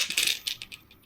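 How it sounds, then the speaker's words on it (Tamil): Brass coins being handled and dropped onto a pile, a quick run of bright metallic clinks and jingles, close and fairly loud, with no voices. "இதில் நான் இந்த பிராஸ் நாணயத்தை பூரா தூர எடுத்துருவேன்"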